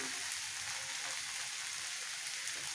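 Hilsa fish curry sautéing in a pan, a faint, even, close sizzle like fine rain, steady throughout with no talking.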